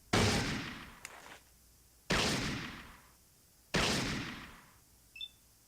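Three heavy single gunshots from the game Fallout boom out roughly every second and a half, each with a long fading tail, followed by a faint short tone at the end.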